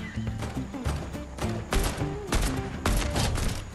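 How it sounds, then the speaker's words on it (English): Bursts of rapid gunfire crackle in several volleys amid Fortnite game sound effects, with a horse-like clatter in the background. "I'm hearing a lot of gunfire."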